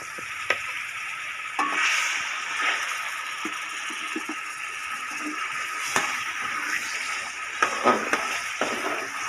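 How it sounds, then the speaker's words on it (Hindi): Boiled chicken goes into chicken fried rice in a hot pan. A steady, loud sizzle runs throughout, with occasional light clinks and scrapes from stirring. "अब इसके अंदर चिकन शामिल कर रहे हैं।"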